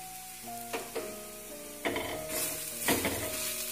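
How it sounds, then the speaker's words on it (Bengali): Mughlai paratha filling of carrot, black pepper and salt being stirred in a hot pan, with a steady sizzle and repeated scraping strokes of a spatula across the metal, close and fairly loud. "এগুলো দিয়েও খুব ভালোভাবে আরেকবার নেড়ে নিচ্ছি আমরা"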